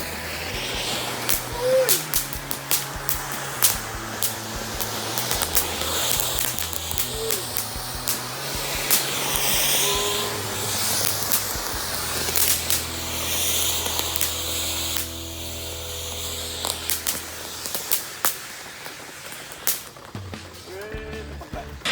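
A jumbo firework fountain mounted on a remote-control toy car sprays with a continuous loud hiss lasting over twenty seconds, with steady tonal sounds running beneath it.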